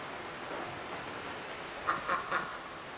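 Three short duck quacks in the video game Lost Ember, spaced about a quarter second apart over a steady wash of ambient game noise, fairly faint and with no talking.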